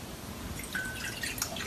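Water poured from a cup as Finnish Karelian pasty dough is started, a soft continuous trickle with small drips running steadily for under two seconds, fairly quiet and heard alone.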